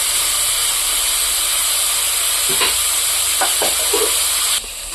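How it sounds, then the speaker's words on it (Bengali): A steady, dense sizzle of eggplant frying in hot oil fills the clip, with a few soft clinks and stirring taps partway through. "আমি এদিকে বেগুন ভাজা বসিয়ে দেবো"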